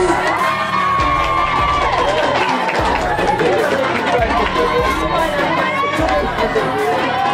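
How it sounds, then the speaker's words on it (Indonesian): A school student council election debate crowd applauding, loud dense clapping mixed with cheering, shouts and lively chatter from many young people close by throughout. "Berikan aplaus."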